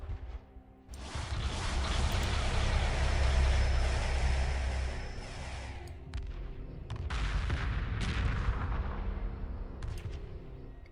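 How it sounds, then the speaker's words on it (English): Kinetic turrets fire during a Homeworld space battle, a dense, rumbling barrage of booming shots that swells, drops at six seconds, then resumes with scattered sharp cracks. "It's cool just to see the kinetic turrets do some damage as well"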